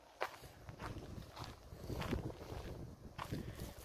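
Steady wind rushes and buffets against the microphone, with soft crunching steps and gusts rising and falling throughout.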